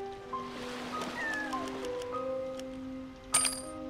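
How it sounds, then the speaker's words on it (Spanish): A cat meowing in the game Yonder: soft, gliding tonal calls drift over a quiet ambient bed with faint chimes, then a bright jingling burst rings out near the end. "Estoy escuchando un gato."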